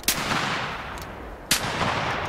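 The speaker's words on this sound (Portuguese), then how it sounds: "então eu dou um tiro no fio" Two sharp rifle shots crack in The Hunter Classic hunting game, the first near the start and a second about a second and a half later, each with a short echoing tail over a steady outdoor ambience.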